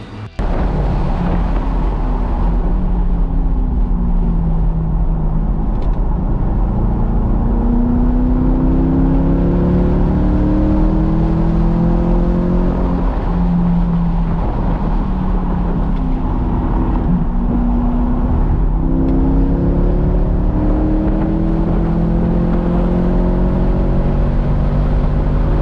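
Car lapping the Laguna Seca race track on stock brakes and freshly fitted coilovers, its engine note loud and steady, with the pitch sweeping up and down through repeated gear changes and shifts in speed.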